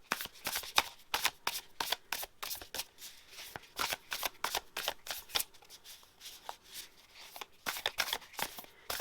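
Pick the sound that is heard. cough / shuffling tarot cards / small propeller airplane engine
shuffling tarot cards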